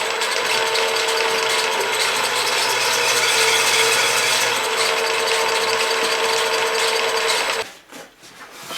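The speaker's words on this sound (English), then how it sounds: "Okay, got a slightly oversized reamer now." A slightly oversized reamer turns in a hole on a lathe, giving a loud, continuous mechanical whir and grinding drone close by, which stops abruptly near the end and leaves a few faint knocks.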